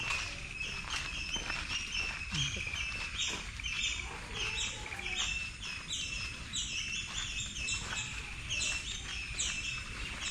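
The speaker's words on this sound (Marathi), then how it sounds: "तुम्हाला पक्ष्यांचा आवाज येत असेल" Many birds chirping and twittering continuously in the distance in a Konkan village, a busy overlapping chorus over a soft outdoor background.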